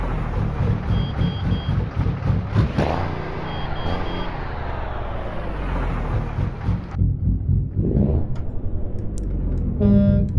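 Air horn of a Mercedes Actros truck in Euro Truck Simulator 2, sounding in steady bursts over a continuous low diesel engine drone, with a brighter short tonal blast near the end.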